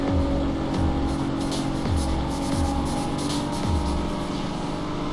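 Engine of a race car in the Real World Racing video game, a steady loud drone with rhythmic pulses as it shifts and revs through corners, playing continuously with no talk.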